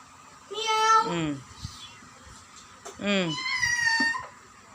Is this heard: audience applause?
no